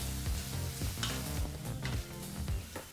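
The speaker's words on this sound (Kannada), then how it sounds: "ಸ್ವಲ್ಪನೇ ಸ್ವಲ್ಪ ಕರಿಬೇವಿನ ಸೊಪ್ಪನ್ನು ಹಾಕಿ ಲೋ ಫ್ಲೇಮ್ನಲ್ಲೇ 2 ನಿಮಿಷಗಳ ಕಾಲ ಇವೆರಡೂ ಪದಾರ್ಥನ ಫ್ರೈ ಮಾಡಿಕೊಂಡ್ರೆ ಸಾಕಾಗುತ್ತೆ" Green chilies and curry leaves frying in oil over a low flame while preparing raw mango chitranna, a steady close sizzle with occasional crackles and stirring scrapes throughout.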